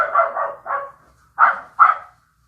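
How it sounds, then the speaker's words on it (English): A dog barks five times, close and loud: three quick barks in a row, a short pause, then two more sharp barks. "Oh my goodness, this dog. Who is he barking at?"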